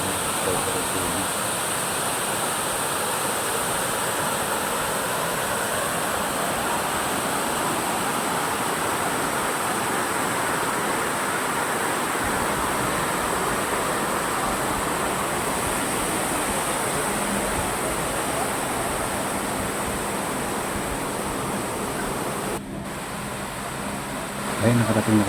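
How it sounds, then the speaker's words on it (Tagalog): Karugo Falls in Montalban, Rizal, pours with heavy flow as a steady, dense roar of falling water that fills the air without pause, close and loud, briefly dipping near the end. "Medyo malakas-lakas ngayon ng tubig, ang bagsak ng tubig"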